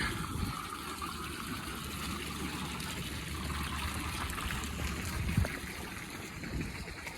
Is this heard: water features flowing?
yes